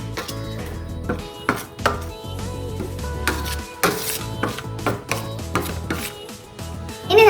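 Spoon clinking against a bowl while mixing chilli, turmeric and cumin powder into a marinade, irregular sharp taps and scrapes over faint background music.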